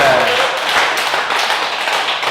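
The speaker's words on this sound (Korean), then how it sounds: "박수 한번 크게 치고요" A group claps hands loudly and continuously at a laughter-therapy lecture, a dense burst of clapping from an audience close by.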